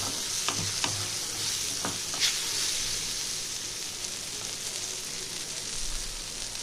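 Chili powder frying in a pan for a Bengali bitter gourd and eggplant jhal, a steady close sizzle and hiss broken by a few scraping strokes of a spoon stirring, with no voices.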